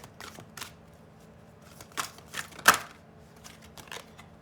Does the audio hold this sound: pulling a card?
yes